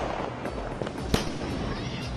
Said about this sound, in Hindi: लोगों ने खूब पटाखे जलाए।